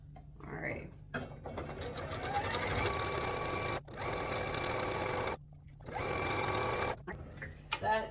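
A sewing machine stitching fabric strips together for strip piecing, running in long rapid bursts with brief pauses between them, close and loud, with a voice speaking over parts of it.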